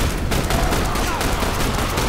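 Dense, continuous gunfire and energy-weapon blasts from the video game The Bureau, with rocket snipers firing green energy bolts, a loud unbroken barrage filling the whole stretch.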